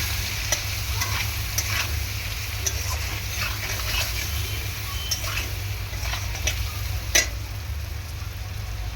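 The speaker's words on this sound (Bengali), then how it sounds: "আর দিয়ে দেবো এই যে লঙ্কার গুঁড়ো ভালো করে এরকমভাবে কষিয়ে নেব" Chili powder and turmeric are stirred and sautéed in a hot pan of oil for a fish and eggplant curry, giving a steady low sizzle with soft scraping of the spoon throughout, with no talking.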